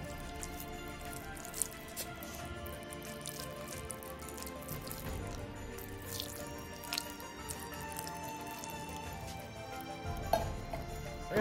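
Water poured onto winged bean seeds in a box, a steady wet trickle and drip that runs throughout at moderate, close level, with a few brief louder splashes.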